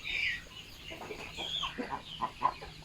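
Chicks and ducklings at a farm in the evening make a rhythmic run of short clucks and high peeps, moderately close and gradually getting a little louder toward the end.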